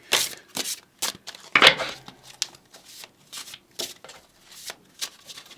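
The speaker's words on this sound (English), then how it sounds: "such a big deck to shuffle" A large tarot deck is shuffled by hand, with crisp riffling and papery slaps in irregular bursts at close range, no voices.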